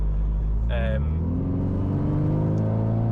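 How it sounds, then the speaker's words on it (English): A 2017 VW Scirocco R with a 2-litre TSI engine revs up from idle, a steady rising engine drone close by, with a brief voice over it near the start. "But second to the RS3, it is the 2-litre TSI engines. I love the sound of them."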